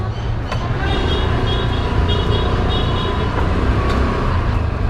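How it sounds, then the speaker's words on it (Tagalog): Steady, loud street traffic of tricycles and motorcycles, engines droning and vehicles passing, a constant roadside rumble with faint horn-like tones. "Ayan, merong tricycle, motorsiklo."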